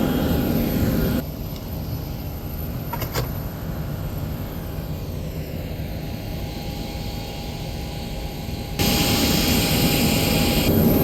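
Jet aircraft at an airport gate, a steady broadband engine roar heard up close; it drops to a quieter, duller rumble partway through, as if from indoors, then returns loud and bright at the end.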